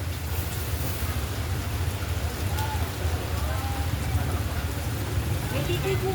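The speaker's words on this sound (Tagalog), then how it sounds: "Ay, ulan." Heavy rain falling on an outdoor market, a dense, steady hiss of downpour throughout, with faint voices of vendors and shoppers talking underneath.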